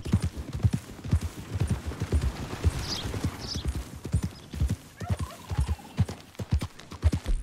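Horse hooves clip-clop steadily at a walking pace in Red Dead Redemption 2, a close, rhythmic patter of many strikes running throughout, with a brief whinny-like tone partway through.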